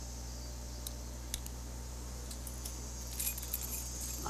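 A bunch of keys jangles in The Walking Dead video game, giving a few light, short metallic clinks over a faint steady hum, with a brief flurry of jingling near the end.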